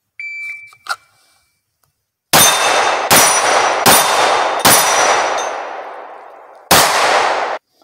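Pistol shots ringing off steel targets outdoors, five loud cracks with bright metallic clangs and long decaying rings, the first four quickly spaced and the last after a pause, preceded by a faint electronic beep.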